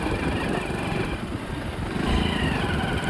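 A Honda scooter engine runs steadily, a mid-pitched motor drone at a constant, fairly loud level close by, with no talking over it.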